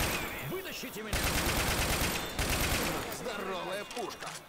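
M60 machine gun firing in the zombie shooter Left 4 Dead 2, rapid sustained bursts of game gunfire with short pauses between them. Character voices and game effects sound over it.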